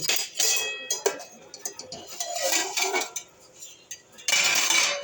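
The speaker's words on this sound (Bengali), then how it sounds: "আর উলট পালট করে দিলাম, সুজিও ঝুরঝুরে হয়ে যাবে" A metal spoon scrapes, clinks and knocks against a pan as semolina is stirred and turned over. The sound comes in irregular close bursts with short pauses between them, and a voice is faintly present.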